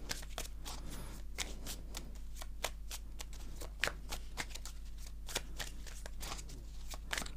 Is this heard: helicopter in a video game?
no